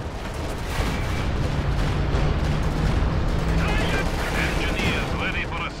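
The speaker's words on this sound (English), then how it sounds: "Stuka bombards the ML-20 and actually destroys the gun entirely" Video game battle in which a Stuka dive bomber bombards an ML-20 gun: dense, continuous rumbling explosions and gunfire blasts, loud and close, with a voice talking over the din.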